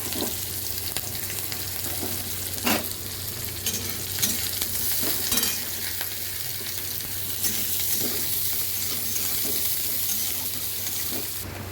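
Chopped onions fry in hot oil in a kadai, giving a continuous close sizzle with a few stirring scrapes and soft pops, steady in level and without talk.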